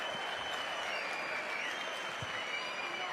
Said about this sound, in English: Here's the applause from the crowd.